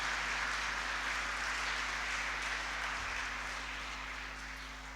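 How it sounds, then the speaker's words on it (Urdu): A church congregation applauds during a Sunday Mass homily: steady, dense clapping that fills the whole stretch and fades slightly toward the end, with no voices over it. "ان کے لیے ذرا زوردار تالی بجائیے۔"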